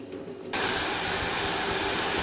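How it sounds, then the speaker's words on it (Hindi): Chickpea masala sizzles loudly in a hot pan as it fries, a sudden steady hiss that begins after a quiet moment and holds at full strength to the end. "अब इसको हम 5 से 10 मिनट भूनेंगे।"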